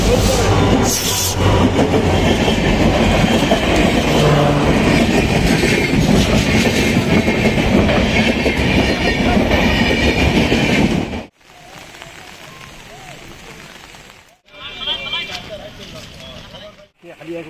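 A train on the Katigorah–Badarpur line rumbles past loudly with a rhythmic clatter of wheels for about eleven seconds, then the noise drops off abruptly to a quieter, fading rattle.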